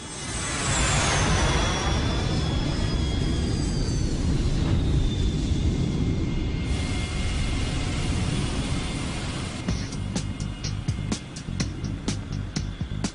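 Jet airplanes roar overhead in the animated Beyblade Metal Fusion show: a loud, sustained rushing engine sound with falling pitch sweeps as they pass, then fading into a rough, sputtering rumble, with no talk.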